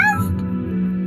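A cat gives one short meow at the very start, then fades into a low steady hum and background tone.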